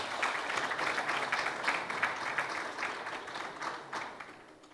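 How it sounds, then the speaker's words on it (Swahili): Large audience applauding at a public announcement event for a Simba club sponsorship, a dense sustained wash of clapping that swells and fades slightly, steady throughout. "Makofi mengi sana."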